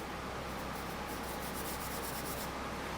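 A hand rubs over rough paint overspray on an old car's body in a soft, steady scratchy hiss that is faint, close and continuous, with slight back-and-forth pulses.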